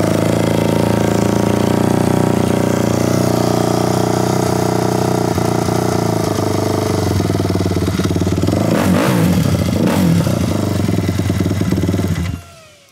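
A Kawasaki KFX450R ATV engine with the choke on runs loud and close with a steady, throaty drone, then revs in a few rough bursts before cutting out abruptly near the end.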